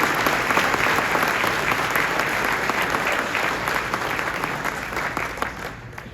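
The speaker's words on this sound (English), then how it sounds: "But a big hand for the coaches who put a lot of time in on the" A crowd at a high school football awards ceremony gives the coaches sustained, loud applause: thick, continuous clapping that holds steady and tapers only slightly at the end.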